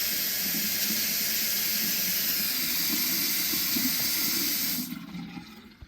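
Water runs steadily from a Kohler Devonshire faucet after a valve cartridge replacement, a constant rushing hiss that continues for several seconds and then cuts off toward the end.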